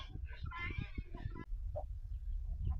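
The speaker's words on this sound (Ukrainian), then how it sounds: "Он, чуєте, де сокорать?" Hens cluck and cackle in quick, uneven bursts nearby, with a low rustling background.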